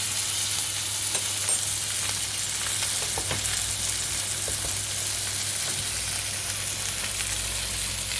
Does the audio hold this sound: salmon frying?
yes